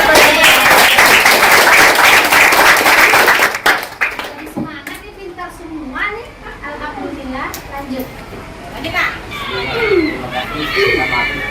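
Elementary schoolchildren in a classroom clap their hands in a brisk, loud burst for a few seconds, then the clapping fades into children's chatter and voices talking.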